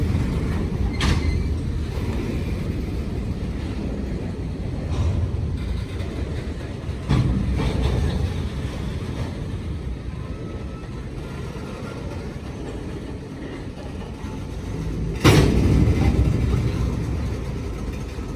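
A freight train with a couple of tank cars thrown in rolls past a blocked highway crossing, a continuous low rumble of wheels and creaking wagons with periodic clanks and thumps from car joints, steady and fairly close, no talk.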